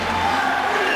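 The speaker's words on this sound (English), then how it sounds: "the crowd voicing their support" A hockey arena crowd roars in support of the goalie during an NHL game between the Dallas Stars and New York Islanders, a loud sustained cheer filling the space.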